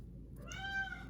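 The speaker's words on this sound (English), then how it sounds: "Sorry about my cat, she wants some attention." A single soft, drawn-out meow from a cat close by in a quiet room.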